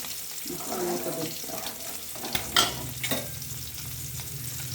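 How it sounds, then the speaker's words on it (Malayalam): Sardines frying in curry in a pan, stirred and turned one by one, give a steady sizzle with scraping and clinking of the spatula, plus a couple of sharper knocks midway. "അപ്പം ഞാൻ ഇളക്കിയിട്ടെ ഓരോ മത്തിയായിട്ട് ഇങ്ങനെ മറിച്ചിട്ട് കൊടുക്കുക."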